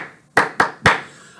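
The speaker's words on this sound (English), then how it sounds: "try clapping these in time with a pulse" Three sharp hand claps in an even rhythm, close and clear, each with a short ringing tail in a quiet room.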